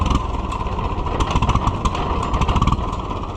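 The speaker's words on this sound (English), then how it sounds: "It's idling too low, that's part of it." A vintage Case tractor engine chugs at a low, uneven idle, set too low, its rough rhythmic putter steady and close throughout.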